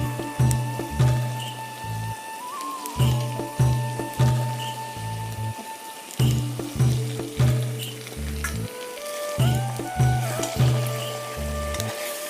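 Chicken pieces hit a pan of well-fried spice paste, giving a steady crackling sizzle that runs throughout, with recurring tonal chimes from background music laid over it and no talking.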